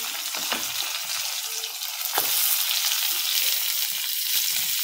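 Onions sizzling in hot oil in a pan with ginger pieces, a steady broadband frying hiss with a couple of spoon scrapes and stirring knocks, close and fairly loud, no talking.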